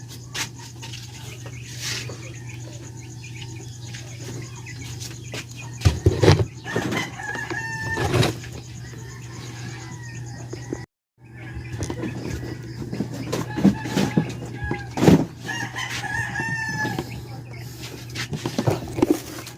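Chickens and young chicks cluck and crow in a rural yard, with a rooster's crow and scattered peeps over a steady low hum, the birds fairly close and loud with brief pauses.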